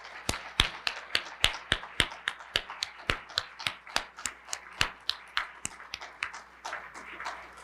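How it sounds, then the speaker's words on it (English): Sparse clapping for group leaders at a university gathering: sharp, evenly spaced claps from only a few hands, close and crisp, in a steady rhythm with no talking. "we give you a huge round of applause for the work that you've done"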